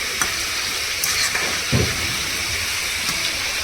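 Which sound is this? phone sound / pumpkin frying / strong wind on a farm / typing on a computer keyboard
pumpkin frying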